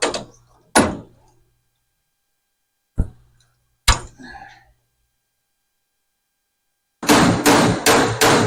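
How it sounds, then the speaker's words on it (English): A hammer strikes a car rocker panel repair piece on a Buick Riviera during rust repair: a few sharp, isolated metallic blows with pauses between, then a rapid burst of loud repeated hits. "If it don't fit, hit it with a hammer."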